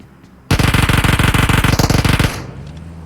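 Automatic gunfire in a squad shooter video game: a loud, close, rapid burst of evenly spaced shots lasting about two seconds, alone with no talk.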